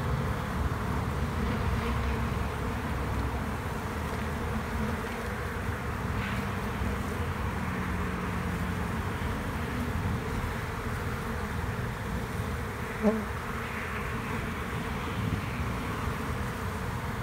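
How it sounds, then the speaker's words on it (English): Continuous soft buzzing of many honey bees returning to their hive during an eclipse, steady and fairly faint, with a light wind hiss in the background. "Looks to me like the bees are getting the word to come home."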